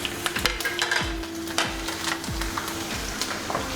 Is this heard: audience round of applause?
no